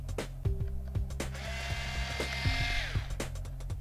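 Screws are being removed from a notebook hard drive cage with a tool, heard as short clicking ticks over a thin steady whine and hum, faint and close.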